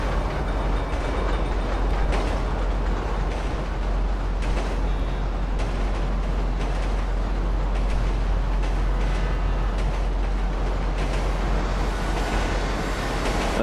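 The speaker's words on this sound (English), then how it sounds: "Train's coming." Train rolling past in the game GTA 5 Online, a steady, loud rumble and rattle of rail cars lasting throughout, with a constant low drone underneath and no talking.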